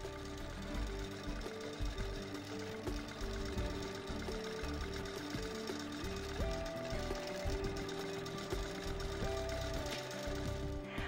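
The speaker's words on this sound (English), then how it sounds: "let the machine stitch a plumb line across the quilt" A Baby Lock Q-Drive quilting machine stitches a line across a quilt, a steady rapid mechanical hum and chatter whose pitch steps up and down with speed, close and unbroken, no voices.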